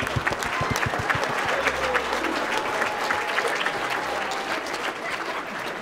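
An audience at a hypnotist's stage show claps in a sustained burst of applause, dense and fairly loud, with a few voices faintly mixed in.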